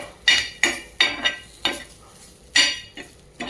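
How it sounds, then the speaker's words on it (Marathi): Red chili powder and coriander powder roasting in oil in a pan, heard as a series of sharp metallic scrapes and clinks of a spoon against the pan at an irregular rhythm, close and fairly loud, with a faint sizzle underneath. "त्यानंतर आपण टाकणार आहोत लाल तिखट आणि धना पावडर, तेही तेलामध्ये व्यवस्थित भाजून घ्यायचं आहे।"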